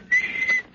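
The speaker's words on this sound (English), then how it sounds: "stop that creepy whistling" A single sustained whistled note, steady and fairly loud, held for most of a brief moment in an old-time radio crime drama, ending abruptly with a short burst of noise.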